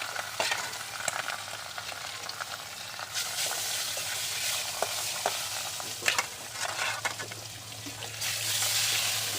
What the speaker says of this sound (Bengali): তেল গরম হয়ে গেছে মাছ ভাজার আমার, খুব তেল গরম হয়ে গেছে প্রচণ্ড পরিমাণে।